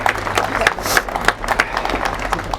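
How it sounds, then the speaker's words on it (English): Wedding guests give a round of applause, steady clapping from a crowd that runs throughout, with voices and talk mixed in underneath. "I think that deserves a round of applause."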